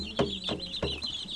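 Young meat chicks make short repeated chirps and peeps, close and fairly loud, several quick calls over a steady high cheeping background, with no talking.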